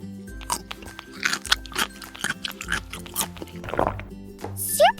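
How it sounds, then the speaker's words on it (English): Electronic Elmo toy's crunching sound effect as a velcro toy carrot is fed to it, a run of short crunchy chewing bursts ending in a brief squeaky flourish. "Super crunchy carrot."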